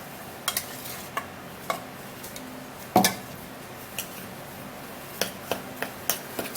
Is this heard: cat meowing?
no